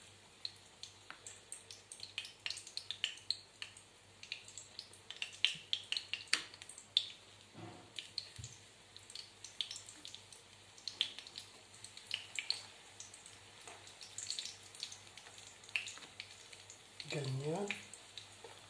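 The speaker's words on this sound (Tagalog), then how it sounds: "So, prito lang natin siya sa mahinang apoy." Soft, steady sizzling of banana frying over low heat in a pan for banana cue, with scattered crackles and pops and a brief voice near the end.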